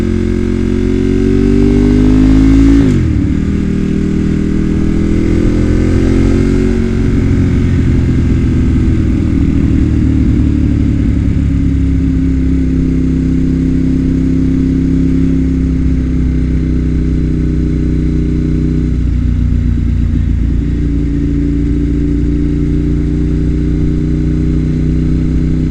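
Motorcycle engine revving hard under throttle, loud and close, with a sharp pitch rise early on, then a sustained high-rev drone that wavers slightly as the rider holds it in check.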